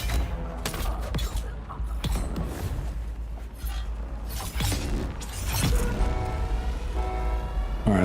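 Rapid bursts of gunfire in the video game Dune, loud and continuous, layered with shattering and breaking impacts and a rumbling vehicle-like drone.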